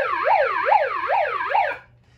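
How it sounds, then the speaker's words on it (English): A loud, close electronic siren wails in rapid rising-and-falling sweeps, about four cycles, then cuts off abruptly. "we got to turn our sirens on"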